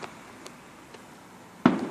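A single firework bursts at night during early Fourth of July celebrations. One sudden crack-and-boom near the end follows a quiet stretch with faint background noise and no talk.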